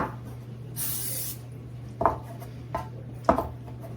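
A short hiss of olive oil spray into a pan for dinner rolls, about half a second long and close, followed by a few sharp knocks of the pan over a steady hum.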